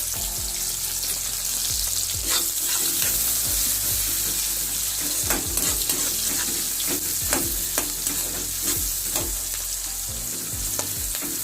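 Steady sizzling of onions frying in a pan, with occasional scrapes and stirs of a utensil, close and continuous.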